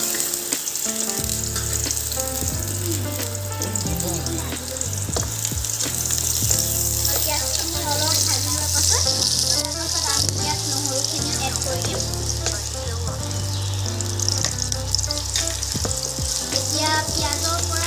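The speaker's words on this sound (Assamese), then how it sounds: "এতিয়া আমি ইয়াত পিঁয়াজখিনি ঢালি দিম।" Sliced onions frying in hot oil, with a loud, steady sizzle and crackle that carries on without a break.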